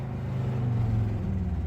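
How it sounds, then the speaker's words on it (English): A Mercedes W123 car with no brakes runs its engine in a steady, low, loud rumble that holds a droning pitch and stays close, with no voices over it. "I've got revs now."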